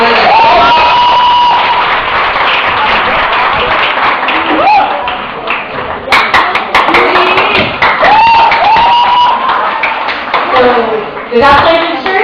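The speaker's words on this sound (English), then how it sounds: "let's give her a welcome clap" A church congregation claps and cheers to welcome a female moderator at an afternoon service, steady applause with whoops and voices over it, loud and close throughout.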